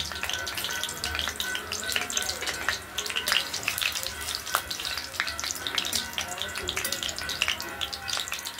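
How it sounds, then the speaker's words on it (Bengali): Cumin seeds frying in hot oil for a tempering, giving a close, continuous sizzle dotted with sharp crackles and pops, steady throughout with faint background noise and no clear talk. "জিরে ফোড়ন দেবো"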